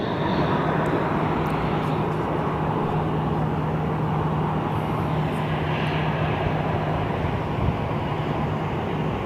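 A United airliner sits in pushback at Phoenix Sky Harbor airport, its engines giving a loud, continuous jet roar that stays steady and fairly near for the whole stretch, with no voices over it.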